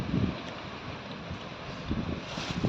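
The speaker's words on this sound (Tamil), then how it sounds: "காற்று வேறு பயங்கரமாக அடிக்கிறதுனால ஒரு மாதிரி இதாக இருக்குது" Strong outdoor wind buffets the microphone in a steady, loud rush with gusting swells throughout, heard on its own with no talking.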